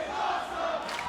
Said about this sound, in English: Listen to the crowd showing their...